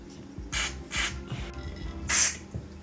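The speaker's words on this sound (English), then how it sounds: "I'm trying to restore the function of the carburetor by shooting through carb cleaner through the different channels of the carburetor." Carb cleaner sprays through the channels of a Yamaha XJ motorcycle carburetor in three short, hissing bursts, close and fairly loud, with faint mechanical handling noises between them.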